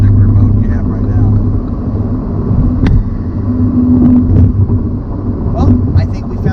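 A 2020 MINI Cooper S with a 7-speed dual-clutch transmission drums along with a low, steady engine hum and road rumble heard from inside the cabin, loud and continuous, while people talk over it.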